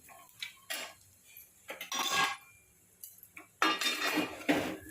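Chopped chillies and peanuts are stirred in a cooking pan, giving bursts of metallic scraping and clinking as a spoon works against the pan, close and moderately loud with short quiet gaps between strokes.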